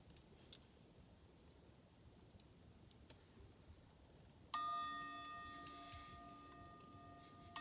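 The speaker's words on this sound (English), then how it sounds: "here's the timer, 3 chimes to begin, 3 chimes to end" Meditation timer chimes ring out clearly in a quiet room, a bright bell tone striking and sustaining with a long, slowly fading shimmer after silence.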